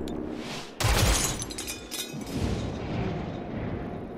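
A gunshot rings out during combat in the XCOM Chimera Squad video game: a sudden loud blast bursts in, then a rumbling, noisy tail trails off over several seconds with no voices.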